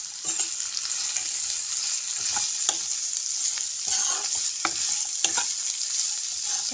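Fish and chopped banana flower stirred in an oily frying pan: a steady sizzle runs throughout, broken by repeated scrapes and knocks of the spatula against the pan.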